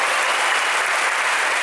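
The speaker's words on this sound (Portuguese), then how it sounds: "Pode aplaudir, pode aplaudir." Audience applauding at a church service, a steady, dense wash of clapping that holds level and fairly loud for the whole stretch with no pauses and no voices standing out.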